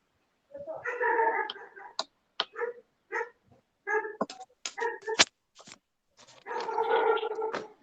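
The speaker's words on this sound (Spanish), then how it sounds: "Amarren esos perros." Several dogs bark in scattered bursts and short sharp yaps, moderately close, with louder overlapping stretches at the start and end and no talking.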